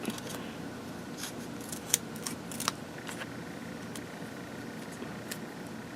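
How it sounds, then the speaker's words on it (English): Paper card cut apart with scissors for a handmade greeting card, a few short crisp snips close by over a quiet room background, with no talking. "I'm going to just cut it apart."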